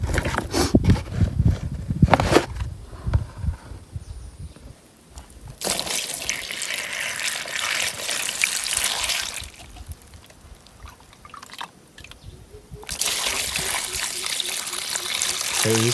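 Peeled bamboo shoots being washed under a running tap, water gushing and splashing in loud bursts that stop and restart, with handling noises and softer trickling between the bursts.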